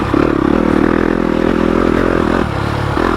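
A Yamaha YZ250FX motorcycle with a 270 big bore kit and stage 2 cams revs hard and close up, a loud, raspy, continuous engine note that dips briefly near the end before climbing again, with no talking.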